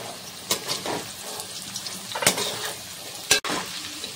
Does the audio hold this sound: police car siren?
no